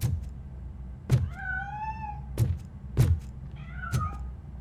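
A cat in RoboCop: Rogue City meows several times, rising, drawn-out cries that alternate with sharp thumping hits, close and clear with no talk.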